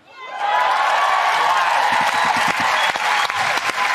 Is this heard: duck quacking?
no